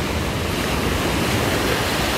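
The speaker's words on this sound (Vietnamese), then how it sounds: "bên này sóng rất là nhiều" Sea waves at a beach make a continuous broad wash of surf, loud and steady throughout with no voices.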